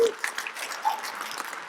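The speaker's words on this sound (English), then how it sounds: "Please, in the audience, give these folks a round of applause." An audience gives a round of applause at a NANOG community meeting. The clapping is moderately loud and scattered, lasting under two seconds, with some voices mixed in.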